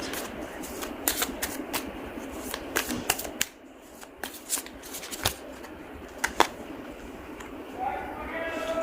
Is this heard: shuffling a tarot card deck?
yes